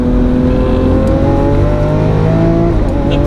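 A Lamborghini Aventador S engine pulls hard under acceleration, loud and close from inside the car, a dense steady roar with rising harmonic tones sustained throughout and no break or speech.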